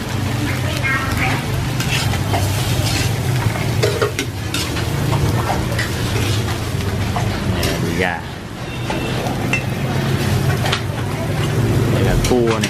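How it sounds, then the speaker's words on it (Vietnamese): Steady sizzling and stirring of chicken thighs and rice frying in a pan at a busy Saigon street eatery, with clattering utensils and people talking over the background noise. "kia là anh đang chiên gà, đùi gà chiên."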